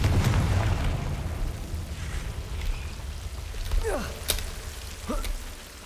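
Bombarda and Confringo explosion spells going off in a Harry Potter video game, a rumbling low blast at the start followed by a few sharp crackling bursts and whooshes, fairly loud against a steady background.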